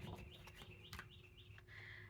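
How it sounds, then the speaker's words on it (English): A small wren sings outside a window: quick, high, thin chirps and trills in short bursts, faint and distant, over a low background murmur. "That is a little wren sitting outside my window."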